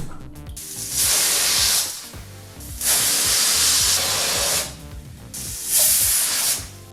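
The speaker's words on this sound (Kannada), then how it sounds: "ಈಗಿಲ್ಲಿ ಕುಕ್ಕರು 3 ವಿಸಲ್ ಬಂದಾಯಿತು" A pressure cooker of lentils steams on the stove, letting off three loud, close hissing whistle bursts, each lasting about a second and a half, with quieter gaps in between.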